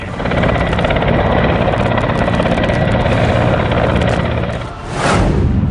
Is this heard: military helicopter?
yes